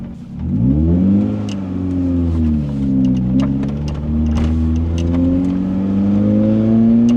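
A Lotus Elise's small engine revs loudly and close up, climbing in pitch, dipping at a gear change and pulling hard again in second gear, a raw continuous drone with no talking.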